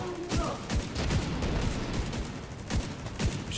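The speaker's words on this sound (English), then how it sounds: "Oh, he's got a Gatling gun?" A Gatling gun fires in The Division 2, heard as a string of loud, sharp broadband bursts in quick succession over a noisy combat background.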